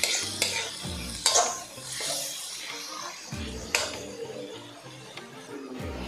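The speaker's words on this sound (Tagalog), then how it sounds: "ilagay na natin yung ating corned beef. Isayin lang natin sandali." Corned beef sautéed and stirred in a pan for bulalo fried rice, with a steady sizzle and repeated scraping strokes of a utensil against the pan.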